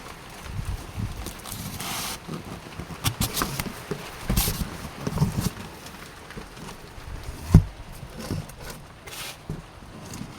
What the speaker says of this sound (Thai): ฝนตกมาแล้ว